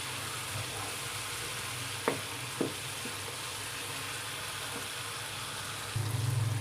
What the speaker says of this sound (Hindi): मसाले को मज़ीद भूनने के लिए 2 से 3 मिनट हम और देंगे इसे